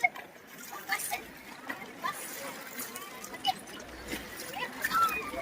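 Ganges river water splashing and rushing around bathers at a pilgrimage bathing spot, a steady broadband wash with scattered small splashes, people talking over it.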